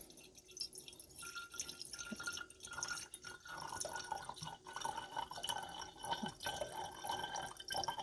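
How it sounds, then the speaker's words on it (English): Cayenne pepper tincture trickles slowly through a jelly bag into a tincture bottle, a faint, continuous liquid pour with scattered drips and light glass clinks close by. "Now pour it in slowly because you don't want any drips"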